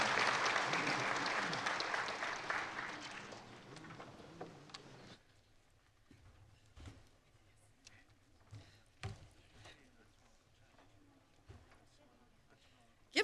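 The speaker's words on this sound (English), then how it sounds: "Give them another round of applause." Loud applause from the audience at a Native giving conference opening plenary rises dense and full, then fades out around five seconds, leaving scattered last claps and quiet room noise.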